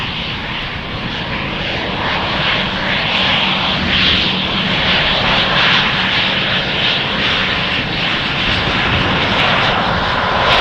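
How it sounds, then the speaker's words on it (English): An Embraer jet taking off from Amsterdam Schiphol Airport, its engines giving a loud, steady, broadband roar that holds throughout, with no speech. "The Embraer will be leaving right away."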